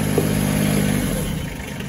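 A vehicle engine idles steadily at a maple sugar house after hauling a tank of sap on its back, a low continuous rumble that holds close and fairly loud throughout, then eases slightly toward the end.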